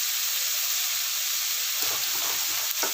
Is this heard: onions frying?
yes